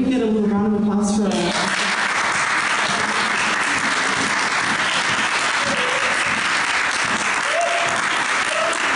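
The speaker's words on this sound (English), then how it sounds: "Can we get a little round of applause for" Steady, loud crowd applause at a university town hall and teach-in at UCLA, starting after a short spoken line and continuing unbroken as a dense wash of clapping.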